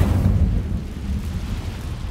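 Incendio fire spell cast in Hogwarts Legacy, a loud, low, rumbling whoosh of flame that bursts at once and fades over about two seconds.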